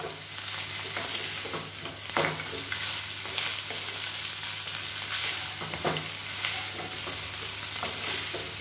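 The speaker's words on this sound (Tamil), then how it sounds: "இது வந்து இப்படியே மெதுவாக கிளறி வச்சுக்கலாம்." Cooled cooked rice for egg fried rice is stirred gently in a pan, low steady sizzling with soft, irregular scraping strokes of a spoon throughout.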